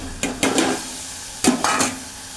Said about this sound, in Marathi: आता त्याला त्यातमध्ये मी घेतलेली करंदी टाकते